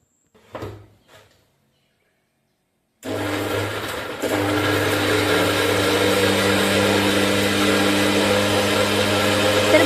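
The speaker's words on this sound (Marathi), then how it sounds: "आता आपण याला ग्राइंड करून घेणार आहोत" A mixer grinder runs steadily as it grinds a coarse vada masala spice mix, starting abruptly after a few faint clicks and a pause of silence, then whirring loudly and continuously with a slight rise in intensity.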